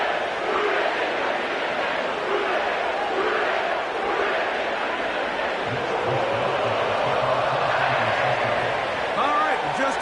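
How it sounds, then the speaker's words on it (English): A sellout stadium crowd roars steadily at Paycor Stadium in Cincinnati before a football game in an EA Sports video game, a dense continuous wash of cheering with faint chants rising underneath. "sellout crowd has arrived at Paycor Stadium in Cincinnati."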